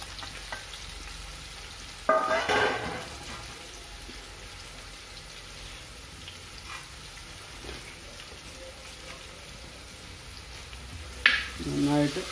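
Garlic and ginger sautéing in a pan for potti fry give a steady low hiss of frying, broken by two close scraping stirs of a spoon against the pan.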